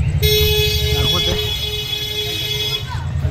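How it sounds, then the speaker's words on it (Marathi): A long sustained vehicle horn blares near an old ground in Mumbai amid evening traffic, a loud steady tone lasting a few seconds over a low rumbling background, with talking underneath. "गाड्यांचा आवाज किंवा सगळं."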